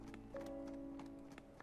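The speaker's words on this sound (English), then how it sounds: "I heard the faint sound of a horse approaching from the direction of the hound's facility." Horse hoofbeats approaching in the game Steam Prison, a quiet, evenly spaced clip-clop of hooves under a held musical tone.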